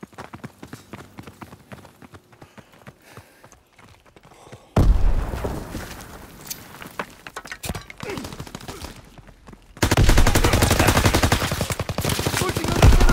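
Heavy machine gun fire from Call of Duty: WWII, starting as sparse distant shots, then bursting into loud sustained rapid fire that grows denser and nearer, with battlefield booms mixed in.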